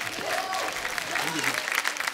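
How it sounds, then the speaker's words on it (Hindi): A TV comedy show studio audience claps steadily, close and fairly loud, with a voice speaking over the applause. "जोरदार तालियां बनती हैं"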